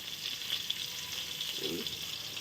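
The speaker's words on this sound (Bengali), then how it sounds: "অনেকটাই সময় ধরে আমি আস্তে আস্তে ঢাকা চাপা দিয়ে তারপরে ভাজছি" Cauliflower for a curry fries slowly in a covered pan, giving a faint, steady sizzling hiss that runs evenly throughout with no voices.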